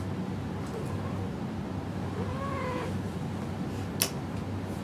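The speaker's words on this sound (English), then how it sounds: "That was my cat." A house cat meows faintly with rising and falling tones over a steady low hum of background noise, followed by a brief sharp click near the end.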